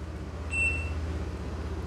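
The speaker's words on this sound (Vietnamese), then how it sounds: "xe đã nổ máy rồi" Car engine idling steadily just after being started, a low continuous rumble with a faint brief whine, heard close and alone during a diagnostic check of the MAP sensor.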